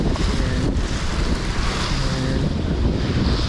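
Sea waves wash onto a beach at Amlan, Negros Oriental, Philippines, a steady broadband surf wash mixed with wind buffeting the microphone, continuous and fairly loud with no voices.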